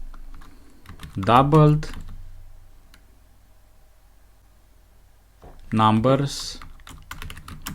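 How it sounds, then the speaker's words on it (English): Steady, crisp tapping of a computer keyboard while Python code is entered, close and moderately quiet, with someone speaking briefly at the start and again near the end. "Next I'm gonna type"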